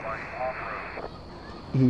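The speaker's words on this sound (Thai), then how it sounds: "เครื่องบินล่นตรงนี้วะ" An airplane roars in low and close while landing nearby in GTA San Andreas Mobile, a steady loud engine wash that fades after a second, with a voice briefly breaking in at the end.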